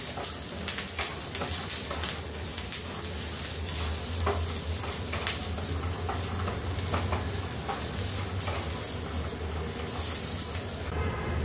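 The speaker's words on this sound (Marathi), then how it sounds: "2 मिरच्या टाकते, कढीपत्ता टाकते, मस्त असं भाजून घेऊया।" Green chillies and curry leaves fry in a pan with garlic, giving a dense, continuous sizzle with frequent stirring scrapes, close and steady with no speech.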